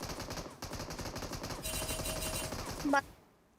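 Rapid bursts of gunfire from a first-person shooter video game, fired close and loud in quick succession and ending with a sharp final burst before dropping away.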